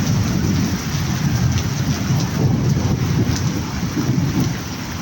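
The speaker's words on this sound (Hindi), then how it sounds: "क्या बारिश का मज़ा नहीं ले रहा तुम बाहर निकल के" Steady heavy rain pours down in Madina Munawara, a dense, continuous hiss with low rumbling undertones that may be distant thunder, loud and close, with no talking.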